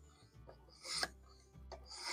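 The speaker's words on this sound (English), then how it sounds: "we'll actually move over to the leather strop" A knife blade drawn across a leather strop after honing on a sharpening kit, a few quiet rasping strokes close by.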